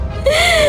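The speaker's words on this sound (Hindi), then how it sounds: "तभी इनको किसी के रोने की आवाज आती है।" A short, eerie wail like someone crying rises suddenly after a brief quiet, a sustained high-pitched tone sweeping gently over a low rumbling bed, used as a horror story sound effect.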